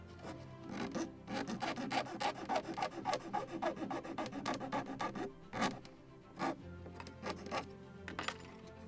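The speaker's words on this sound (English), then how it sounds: "or just to sand it." Wooden cap rail part for a 1776 gunboat Philadelphia model ship being sanded by hand, a close raspy scraping in quick back-and-forth strokes, then a few sparse rubs and light taps.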